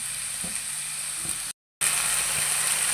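Onions and chicken sizzle in hot oil in a pan with a steady, bright hiss that cuts out briefly and then resumes, with faint stirring knocks underneath.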